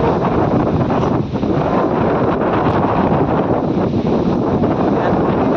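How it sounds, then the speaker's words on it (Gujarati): Strong wind during a rainstorm in Jetpur roars steadily and loudly against the microphone. The dense buffeting rush fills the whole span with only slight dips and no clear voices. "પવન આવે છે હે ભાઈ પવન આવે છે"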